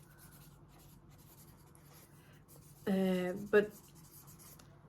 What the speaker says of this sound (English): that reminds me of someone else I need to write down